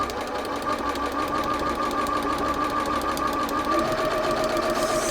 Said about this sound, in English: Doesn't get any easier than sewing on a straight line.